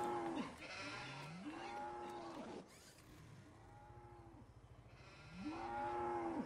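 Sheep bleat and cows moo in a Farming Simulator 19 animal pen, several drawn-out calls overlapping at a moderate distance over a steady background of farmyard ambience, with no talking.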